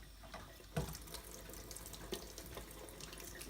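Water runs steadily from a mixer tap into a sink, a continuous gentle splash with a couple of louder knocks as the handle shifts, and no talk.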